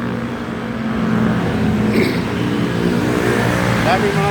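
Motorcycles and other traffic pass along a busy street near an MRT line toward Quiapo, making a continuous loud engine and road roar with a brief higher whine near the end.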